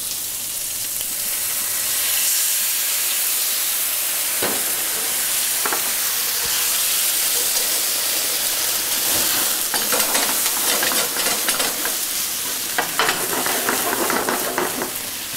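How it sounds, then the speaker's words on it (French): Meat in a restaurant pan, seasoned with pepper, sizzling hard while being flambéed with péquet de Herstal, a continuous loud hiss broken by scraping stirs and clinks of a utensil on the pan. "Et nous allons flamber avec le fameux péquet Charlemagne"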